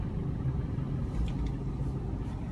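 A manual car pulls away as the clutch is released, giving a steady low engine rumble and road drone, moderate and constant, with no talk over it.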